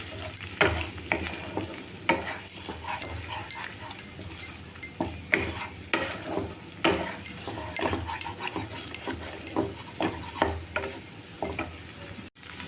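Egg frying in a pan for egg fried rice, a continuous sizzle broken by repeated scraping and stirring strokes of a spatula against the metal, close and fairly loud, with a sharp clack near the end.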